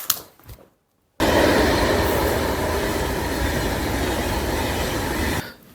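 A train runs with a loud, steady rumble and roar heard from inside a carriage, starting abruptly after a brief silence and continuing evenly before cutting off.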